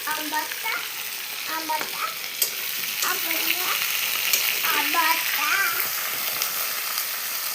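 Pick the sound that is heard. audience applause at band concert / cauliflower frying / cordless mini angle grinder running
cauliflower frying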